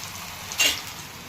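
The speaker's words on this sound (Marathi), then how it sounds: "दोन्ही बाजून छान असं भाजून घेत आहे" Dhapate, a thin patted Maharashtrian flatbread, roasts on a hot pan with a soft steady sizzle and a brief louder crackle midway, close and short, without voices.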